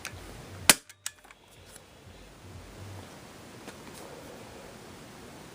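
An Umarex Rekt OpSix CO2-powered Nerf pistol fires a dart with one sharp, loud pop, followed by a few small clicks and a quiet hissy background afterward.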